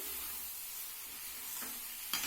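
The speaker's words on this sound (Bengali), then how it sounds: "আমি একদম কড়াইতেই সবটা কষিয়ে নিচ্ছি" Pointed gourd sautéing with spices in a wok, a steady close sizzle and frying hiss running throughout, with faint stirring scrapes near the end and no voices.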